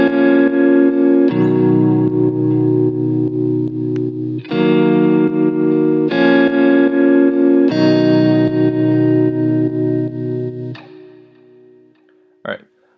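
Jazz guitar software instrument through effects like distortion, chorus and echo, playing sustained, heavily processed chords in several long strums with gaps, ending with a brief sharp pluck.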